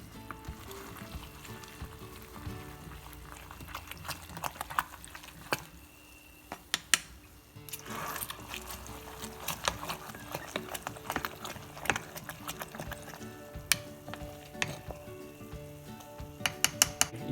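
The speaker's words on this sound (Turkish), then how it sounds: "Şimdi şimdi bir daha karıştıracağız." Homemade black grape vinegar is stirred in its container, producing a run of wet sloshing and scraping with frequent clicks and knocks, close and fairly busy.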